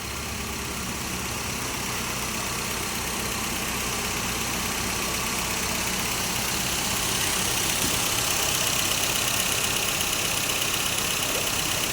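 A car engine idles steadily for the whole stretch during coolant refilling for overheating, a continuous low mechanical rumble with no voices over it.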